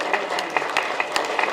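A Hindi poetry recital audience in Bhagalpur claps for a moment, a thin, scattered patter of applause with a few sharper individual claps standing out.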